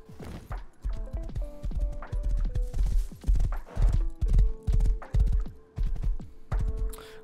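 Horse hooves clip-clop in a steady galloping rhythm as a horse is ridden in the survival video game Rust, loud and close for the whole clip with no speech.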